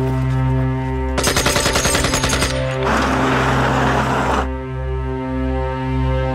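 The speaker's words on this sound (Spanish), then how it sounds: "¿Eso ha sido un disparo?" A rapid burst of loud gunfire rattles out, followed by a second stretch of sustained noisy blasts, all over a steady low droning background.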